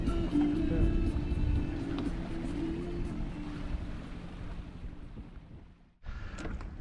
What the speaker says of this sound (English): just on the mainsail and we're running the engine